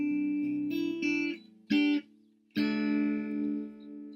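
Acoustic guitar playing the intro of a song, a few plucked notes and strummed chords in short bursts separated by brief gaps, then a sustained ringing chord, close and clear with no talk.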